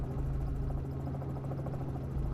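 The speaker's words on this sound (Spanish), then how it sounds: "El helicóptero sobrevolará más de 60 instalaciones" A helicopter flies over oil and gas facilities, its rotor and engine giving a steady, loud, close drone that holds throughout.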